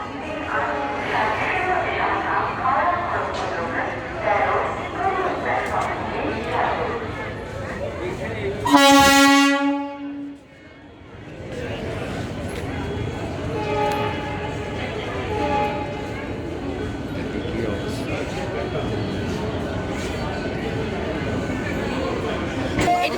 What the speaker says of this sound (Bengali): স্টেশনে ট্রেন চলে এসছে